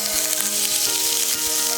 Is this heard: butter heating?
yes